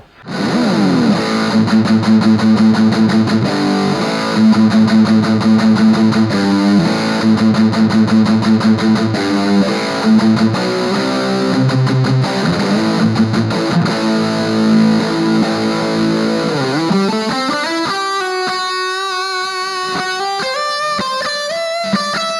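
A heavily distorted electric guitar through an Orange Crush 20RT amp at full gain plays loud riffs and sustained chords, saturated and buzzing, ending on ringing notes; no talking.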